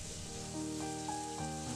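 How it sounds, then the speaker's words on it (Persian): Minced meat and diced bell pepper sizzle steadily in a frying pan, a constant close crackle with faint tonal hum underneath and no talking. "حدوداً دو قاشق غذاخوری فلفل لومی رو که نگینی خرد کردیم میریزیم توش و یه دقیقه تفت میدیم"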